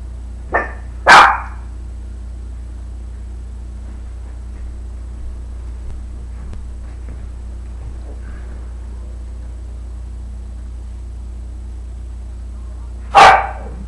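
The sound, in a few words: dogs barking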